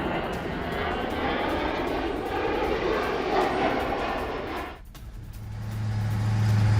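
Engines of Chinese military bomber aircraft during a drill, a steady broad roar of aircraft noise that dips briefly near the end before building again with a low drone.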